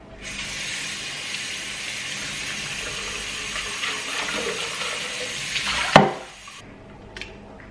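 Tap water gushes steadily into a container for about six seconds to rinse it out, then ends with a clunk and a few faint drips.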